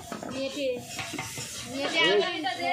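Water pours into a hot cooking pan, giving a steady sizzling hiss with utensil clatter and stirring throughout, close and moderately loud.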